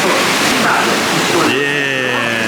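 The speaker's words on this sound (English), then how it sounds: "Pressing the green button, we'll shower the wheels." Water sprays onto wheels at an interactive animation attraction in Animal Kingdom, making a loud, steady hiss throughout, with a faint tonal hum joining near the end.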